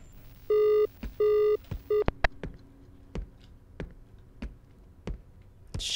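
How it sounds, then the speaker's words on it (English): A telephone ringing in the horror video game Is Simon There: three loud, close ring bursts, the last one cut short, followed by a string of sharp clicks and ticks in the quiet. "Ooh, the phone."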